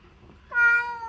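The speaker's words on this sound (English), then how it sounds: "Kizzy's gonna meow too, even" A rescue kitten lets out a single close, loud meow that rises and then holds steady before tapering off, with faint room quiet before it.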